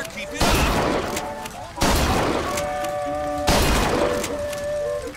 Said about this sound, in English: Nice little fireworks display.